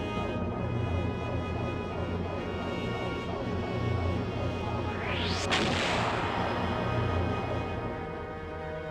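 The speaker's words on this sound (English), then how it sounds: "Torpedoes away." Torpedoes launched from an airship in Skies of Arcadia Legends: one rising whoosh with a sharp crack midway, set under a steady loud layer of game music.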